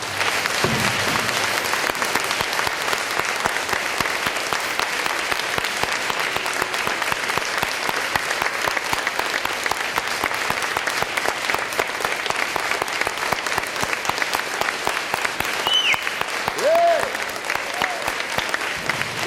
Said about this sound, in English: Please stand up and let's all us, the rest of us, give them a big round of applause.